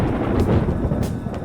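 Thunder rolling before rain in the video game Persona 5 Royal: a brief, low, steady rumble with a couple of faint cracks, alone with no talk.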